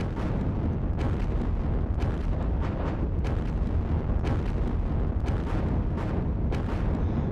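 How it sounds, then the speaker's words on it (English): Artillery shelling in the wargame Panzer Battles Kursk: a steady rumble broken by a string of sharp booming impacts, repeated at uneven intervals and fairly loud throughout. "their artillery can still shoot, even though I can't see any of their units"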